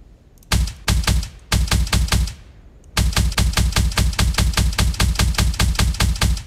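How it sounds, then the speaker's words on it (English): The Posmer 10C short-barreled assault rifle fires in the sci-fi game Zerahypt: a short burst, a second burst, then a long sustained stream of sharp, evenly spaced loud shots with no talk. "This is the classic Posmer 10C, not the Posmer 10CR. A short-barreled assault rifle."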